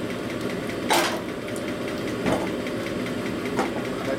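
Stone hone stroking back and forth inside a Jims big bore Harley twincam cylinder, a steady mid-range mechanical grinding drone with three brief louder scraping bursts at regular intervals, close and continuous, no talk.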